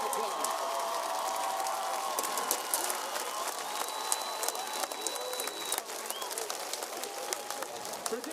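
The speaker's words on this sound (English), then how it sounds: "A big round of applause." Crowd applause rises at a high school football game between USouth Panthers and Nixon Mustangs, steady distant clapping and cheering across a stadium, with a faint announcer voice beneath.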